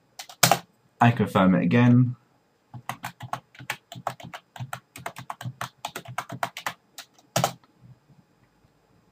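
Password being typed on a computer keyboard, a long run of quick, crisp key clicks in an irregular rhythm, close and clear, with a short spoken phrase near the start and brief speech just before.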